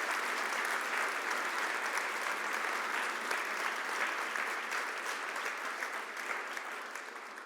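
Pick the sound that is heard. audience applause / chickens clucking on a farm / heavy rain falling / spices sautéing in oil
audience applause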